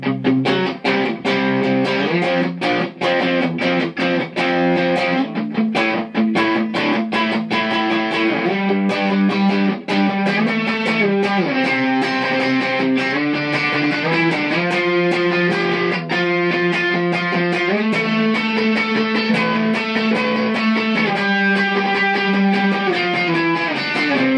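Electric guitar, a Les Paul, played through heavy distortion, strumming a steady chord progression with sustained, saturated chords, loud and continuous throughout with no talking.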